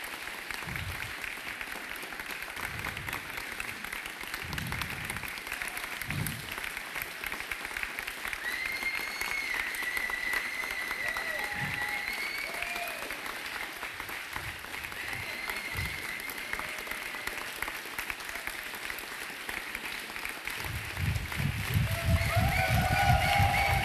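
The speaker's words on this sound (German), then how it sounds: "Das ist euer Applaus." Applause and cheering from a large crowd at a youth hackathon award ceremony, steady and somewhat distant, swelling louder toward the end.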